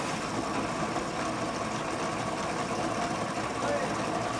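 A Rola mechanized grinder grinding mud for gold processing in India, a steady droning motor hum with a constant rough grinding texture, running evenly throughout at close range.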